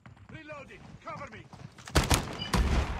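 Explosive-shot NA-45 gunfire in the Call of Duty Mobile video game, with two loud booming shot bursts in the final second following a man's speech in Portuguese.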